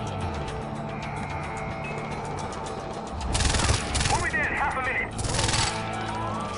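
Gunfire from a Far Cry 4 firefight, with bursts of shots rising over steady ambient game noise near the middle and end, loud and close amid a cluttered background.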